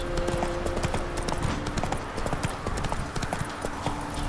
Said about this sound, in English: I'm on the horse.